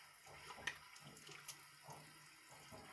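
Cold water running steadily from a tap during washing, a faint, constant splashing flow with a few soft clinks and knocks from handling, heard alone.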